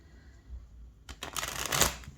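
Tarot cards being shuffled, a quiet start followed by a close, dense riffling burst that builds over about a second, with no talk.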